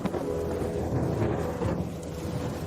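Rain falls steadily at night with low rumbling thunder rolling underneath, a dense, continuous wash of sound with no voices.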